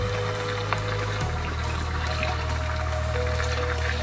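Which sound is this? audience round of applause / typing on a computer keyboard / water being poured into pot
water being poured into pot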